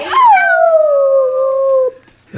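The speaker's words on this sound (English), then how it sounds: "We can't leave this puppy alone." A young female puppy lets out a long, sustained howl that slides down in pitch and trails into a whimper, loud and close, with a brief quiet gap before another small sound begins.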